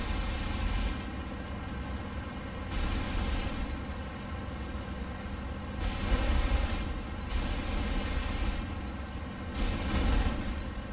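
Aircraft cannons fire in repeated bursts inside the IL-2 flight combat game, with several roughly one-second volleys of loud broadband gunfire rising over a steady engine drone, no talking.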